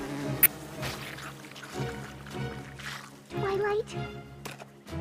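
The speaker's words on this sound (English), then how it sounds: "And a buzz buzz to you, Flash Bees." Cartoon flash bees buzz in short bursts, mixed with music and character voices talking throughout.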